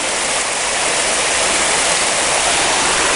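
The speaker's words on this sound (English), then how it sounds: "Nice little cascading waterfall here." A small cascading waterfall beside a hiking trail, a loud, close, steady rushing roar of falling water that fills the whole stretch without any talking.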